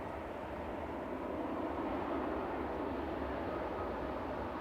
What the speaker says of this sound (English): Just coming over the threshold here is Ryanair from Lisbon with flight 2253.